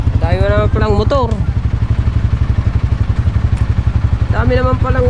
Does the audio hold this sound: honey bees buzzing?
no